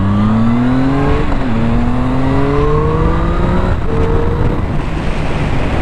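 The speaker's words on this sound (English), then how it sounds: "I love this motor. It's so meaty in the mid-range." A Triumph Speed Triple supernaked motorcycle engine revs hard through the gears, its loud, close pitch rising, dropping briefly at each shift, then climbing again under steady road noise.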